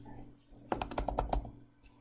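A burst of computer keyboard typing, about a dozen quick, close keystrokes in a short run over a faint background hum, entering a word into a search bar.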